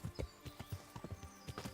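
Horse hooves clip-clopping in the medieval game Kingdom Come: Deliverance, a steady run of distinct, close hoof strikes with a brief whinny-like tone, no talk over it.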